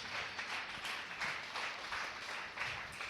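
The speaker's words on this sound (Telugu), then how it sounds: "చప్పట్లు కొట్టి దేవుని మహిమ పరుద్దాం." Sunday worship congregation clapping hands in church, a continuous rippling applause from many people, fairly quiet and distant, with no talk over it.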